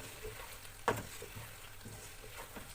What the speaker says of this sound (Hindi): ये सारे मसाले हम इसमें ऐड करके इसको अच्छे तरीके से मिक्स करेंगे।